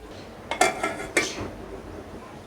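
Rice being stirred in a cooking pot, heard as two short bursts of metallic scraping and clinking from a spoon against the pot, close and fairly faint, then quiet.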